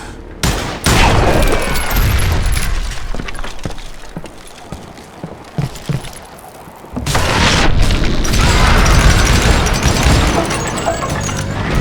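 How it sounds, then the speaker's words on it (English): Booming gunshots and a chaotic burst of gunfire and crashing fill the Call of Juarez Gunslinger Wild West shootout as a rope holding a footbridge is shot, loud and close, with a heavier sustained roar near the end. "so I shot the rope."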